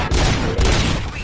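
Gunfire in the Robocop Rogue City video game, a loud close burst of overlapping booming shots that blur into one dense rumble lasting about a second.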